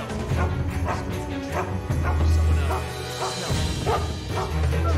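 A dog barks and yips in the stealth video game Mark of the Ninja, repeated bursts over a steady bed of game music and background effects.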